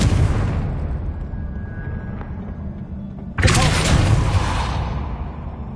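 A Confringo spell explosion in the game Hogwarts Legacy bursts with a sudden loud, broad blast over an ongoing rumbling, fiery hiss, then slowly fades.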